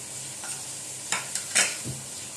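Shredded chicken being stirred in a hot pan with salt, a soft sizzle under a few sharp scrapes of a spoon against the pan, close and fairly quiet with no talking.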